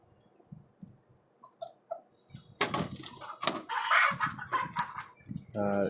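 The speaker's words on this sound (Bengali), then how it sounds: "এই হচ্ছে আমার টাইগার মোরগটা" A tiger breed rooster on a rooftop farm gives a few soft clucks, then a louder burst of calls. A voice speaks nearby.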